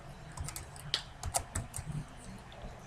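Quick bursts of typing on a computer keyboard, close and clicky, with uneven rhythm and no talking.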